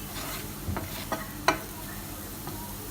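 Chili powder and turmeric frying in a pan, heard as a quiet low sizzle with a few light scraping ticks from stirring.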